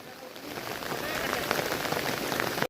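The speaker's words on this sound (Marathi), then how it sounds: "पूर्ण कोकणात पाऊस खूप प्रमाणाच्या बाहेर पडतोय" Heavy monsoon rain falling across the Konkan, a dense, steady hiss of drops drumming on surfaces nearby, building slightly and holding loud throughout.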